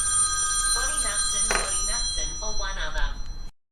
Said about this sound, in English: So, sorry about the phone call.